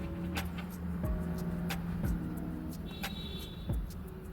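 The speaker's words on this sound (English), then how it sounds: "Dude rode past and had a bunch of junk on the back of his truck" A truck drives past on a road, with a rising and falling engine rumble and scattered clatter and bangs from a load of junk on its back, heard fairly close with no talking.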